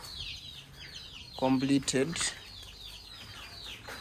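Local chickens in a coop being enclosed with mesh, giving soft clucks and a short burst of louder squawking calls mid-clip, with a person speaking briefly.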